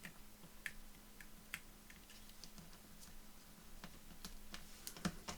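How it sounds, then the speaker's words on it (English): A knife slicing through a paper craft tag, heard as a scatter of faint, sharp clicks and ticks over a quiet background with a low steady hum, close and soft. "And I'm going to get my knife. I'm just going to cut that off along there."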